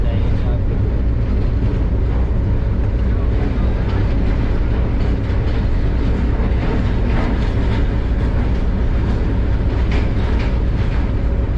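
The Hazara Express pulls into platform 4 at a station, a steady loud rumble of rolling wheels and carriages with faint clatter, under a voice talking throughout.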